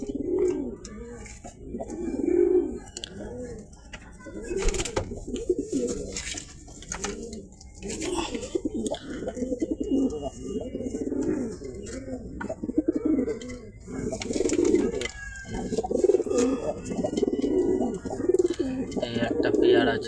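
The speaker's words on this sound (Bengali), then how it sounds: "সব বাড়ির ধাড়ি পায়রা আছে।" Domestic pigeons kept at a house loft coo repeatedly and at close range, a continuous layered throaty cooing with occasional flutters and small clicks.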